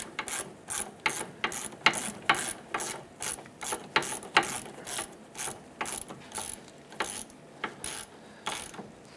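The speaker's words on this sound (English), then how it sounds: "We're going to line that up and get that threaded in." A ratchet threads an engine mount bolt, coated with blue Loctite, into a 1994–2004 Chevrolet S10. Repeated short clicking bursts come in a steady back-and-forth rhythm, close up with no talking.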